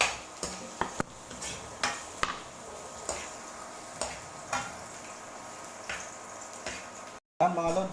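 Garlic sautéing in a pan on a stovetop, a soft steady sizzle broken by repeated sharp clinks and scrapes of a utensil against the pan, close by and fairly quiet.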